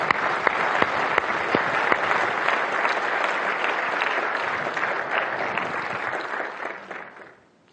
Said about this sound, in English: so please warm Round of applause.